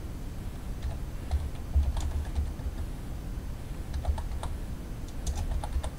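A computer keyboard is typed on in quick, uneven bursts of close, light clicks, entering a title for a WordPress widget over a faint steady hum with no talk.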